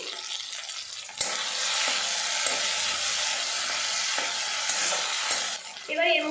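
Chopped green chillies stir-fried in a pan with other ingredients for a cabbage and mung dal dish, a steady sizzle broken by occasional spatula taps, ending in a brief louder clatter.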